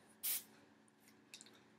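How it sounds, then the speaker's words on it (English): A handheld spray bottle mists water onto hair while it is being styled into a high bun: one loud, close, short hiss of spray, followed by quiet handling and a faint second puff. "You can also spray your hair with water."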